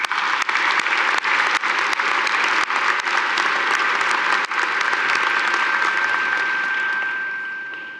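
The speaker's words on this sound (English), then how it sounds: "I think you need a round of applause for that" A graduation audience at a fall commencement ceremony breaks into a loud, sustained round of applause, dense clapping filling the hall for several seconds before slowly fading out.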